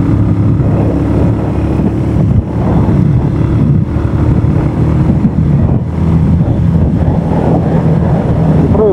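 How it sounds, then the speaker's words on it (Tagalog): Strong wind on the top of the third-highest mountain in the Philippines roars and buffets against the microphone in a constant, loud rush with gusty low-end rumbling and no voices. "malakas na yung hangin dito kasi mataas na tayo eh."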